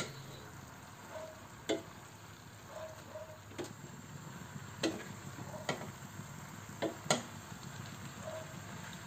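Water spinach with soy sauce stirred in a hot pan: a quiet, steady sizzle broken by sharp, irregular spatula clicks and scrapes, with no talking.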